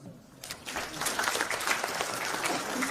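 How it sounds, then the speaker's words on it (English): An economics summit audience breaks into applause, rising quickly from near silence into a dense, fairly faint patter of many hands that holds steady to the end. "Give that young man a clap."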